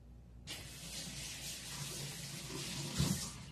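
Tap water running into a sink to wash water-based ink off, a steady close hiss that starts abruptly after a brief silence and keeps flowing, with a small splash near the end.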